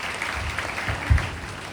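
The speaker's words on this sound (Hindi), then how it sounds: "ताली बजाकर प्रभु का महिमा करें।" A church congregation claps together during a Sunday service at Full Gospel Church in Dhanbad, a dense, steady wash of applause from many hands with a few heavier low thumps mixed in.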